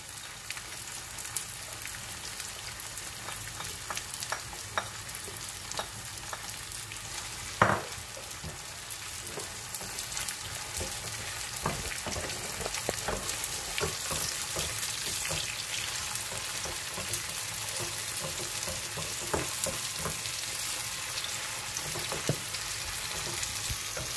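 Whole spices sizzle and crackle steadily in hot oil for a dal tempering, a dense continuous frying hiss with occasional sharper pops, close by and without talk.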